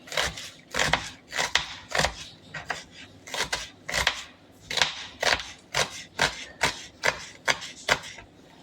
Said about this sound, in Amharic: ሽንኩርቱንም በዛው መልኩ እንደዚህ በደንብ አድርገን እሱንም በጥቅ አድርጌ ከትፈዋለሁ